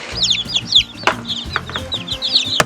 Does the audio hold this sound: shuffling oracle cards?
no